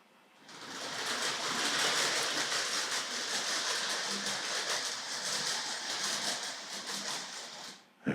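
A mid-1970s Hornby Railways High Speed Train model runs steadily along its track near a station, a continuous close rolling whir with a faint rhythmic ticking throughout, starting abruptly and ending with a small click.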